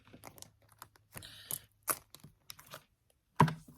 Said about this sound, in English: I'm just going to shuffle them once, and we'll get right into this